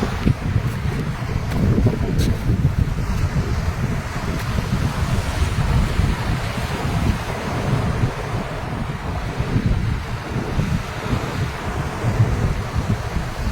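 Sea waves rolling and washing at the port of Kiamba, Sarangani, during a tsunami, a steady heavy low surf roar buffeted by wind noise on the microphone, continuous throughout with no voices.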